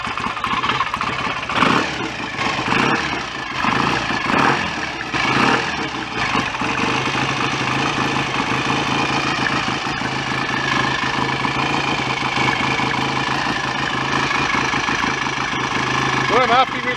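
A rebuilt BSA A65 motorcycle engine with its cylinder head refitted idles steadily and close for the whole stretch, a continuous mechanical thrum with some clatter and a few louder bursts early on.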